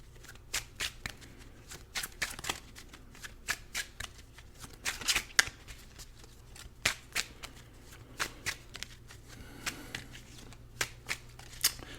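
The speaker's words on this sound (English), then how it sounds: "So a couple cards tried to come out when I was shuffling." Tarot and cartomancy cards being shuffled by hand, a steady series of crisp riffling bursts and soft flutters repeating every second or so, close and fairly quiet with no talk.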